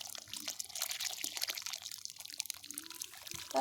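Water pours steadily from a hose into the hole around a newly planted tree, a soft, continuous close trickle and gurgle with faint splashing throughout, and no talking.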